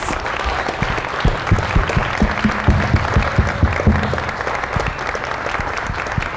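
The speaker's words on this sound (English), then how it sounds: "Let's give them another round of applause." An audience applauds after a children's evening theatre performance, with steady, full clapping from a sizable crowd, individual claps clearly audible within the wash, sustained throughout.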